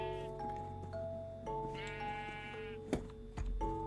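Sheep bleat repeatedly in a blocky sandbox video game, several overlapping wavering cries close by and fairly loud, with a sharp click or thud near the end.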